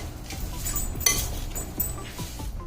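Torn pieces of a seaweed snack are stirred in a bowl, making light clinks and scraping taps of a utensil against the dish with soft rustling between them. The sounds are fairly quiet and irregular.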